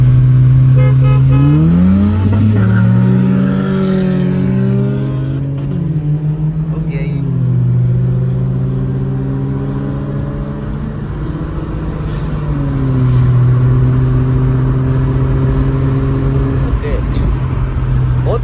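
A Toyota Raize engine revs up from a roll at about 20 and climbs through gears in a roll race, loud and close, with rising and falling tones and voices talking over it.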